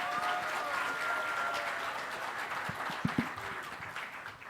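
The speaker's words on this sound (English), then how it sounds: "Mr. Rajiv Malhotra, who gets claps every time he stands up" Audience clapping for Rajiv Malhotra at a literature festival panel, a moderate steady patter of applause from a seated crowd with faint voices and a few louder knocks mixed in.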